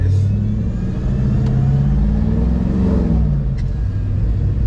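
A car engine revving up and down, a loud low rumble that rises to a peak midway and settles again, with no talking over it.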